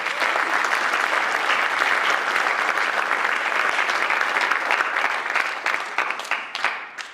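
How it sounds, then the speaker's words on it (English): Crowd at a winter sports awards ceremony gives the coaches a big round of applause, dense sustained clapping that holds steady before tapering off at the end. "let's give them a big round of applause"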